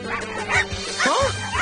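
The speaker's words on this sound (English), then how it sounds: "Oso, did I mention you're being chased by a pack of puppies?" A pack of puppies yips and barks in quick, high-pitched bursts, close and lively, with a couple of whimpering notes among the short calls.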